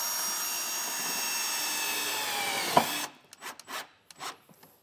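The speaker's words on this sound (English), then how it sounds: "So I'll just take my self-tapping screw and drill this in." A power drill drives a self-tapping screw into a 2024 Subaru while installing a Redarc Tow-Pro Liberty brake controller, a steady whirring whine for about three seconds that stops abruptly, followed by short bursts of handling and tightening noises.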